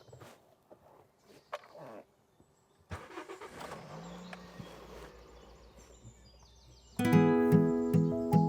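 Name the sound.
car revving, clutch released and driving off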